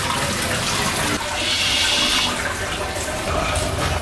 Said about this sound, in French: je vais tirer la chasse d'eau.